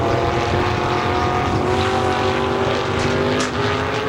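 A Dodge late model race car, number 11, circles the Pennsylvania Motor Speedway track near Pittsburgh. Its engine drones loud and steady, with a constant high-pitched whine and shifting pitch as it laps.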